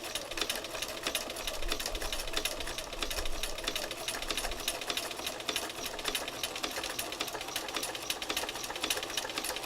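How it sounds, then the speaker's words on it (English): A sewing machine runs steadily, zigzag stitching black thread along a skinny tail shape with gentle curves, its fast, even mechanical chatter loud and close without pause for the whole stretch. "There's a lot of black zigzag stitching that's going to be on this tail because it's so skinny."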